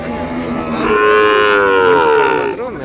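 A single Ongole bull at a Sunday cattle market in Kodada lets out one long, loud, close moo that rises and holds for about two seconds before tailing off, with no one speaking.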